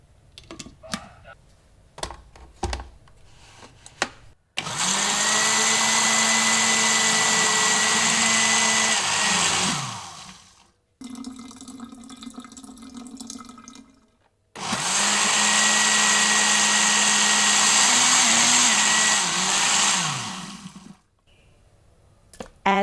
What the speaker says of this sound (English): Add the ground walnuts and some of the 600 milliliter water to the larger blender container. We will gradually add the rest while blending.